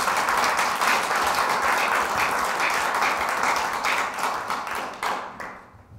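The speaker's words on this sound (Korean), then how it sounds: "큰 박수 부탁드립니다" A lecture audience gives a guest speaker a warm round of clapping indoors, a dense even burst of many hands that tapers off and fades to quiet over the last second.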